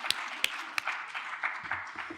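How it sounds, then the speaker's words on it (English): A short burst of audience applause at a panel discussion, with a few sharp claps standing out at the start before the clapping settles into a steady, moderately close patter. "we have to give Phil a big clap"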